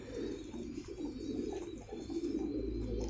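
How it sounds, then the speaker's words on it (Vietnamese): Pigeons coo steadily at a pigeon farm in Đắk Lắk, a dense, close chorus of low, overlapping throaty calls running without a break and with no speech. "Đây là hình ảnh chim bồ câu ở trại trên Đắk Lắk của mình anh em nhé"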